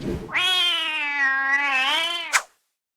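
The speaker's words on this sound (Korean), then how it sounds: "고양이네" A single long, drawn-out cat meow, close and clear, rising and wavering before ending with a short sharp chirp.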